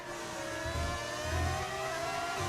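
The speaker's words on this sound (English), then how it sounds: "I've got a V10 sound in the car." Modded V10 engine sound of a Formula 1 car in the racing game F1 25, a continuous high whining drone that rises and falls with throttle, loud and steady with no talk.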